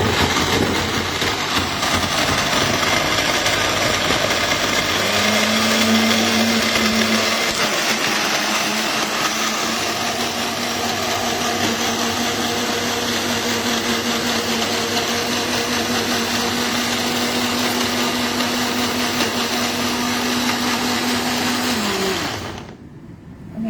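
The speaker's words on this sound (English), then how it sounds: "I'll just blend this into some oat milk" A blender runs loudly and steadily for over twenty seconds, blending oats into oat milk, its motor whine shifting pitch slightly as it churns, then cuts off abruptly.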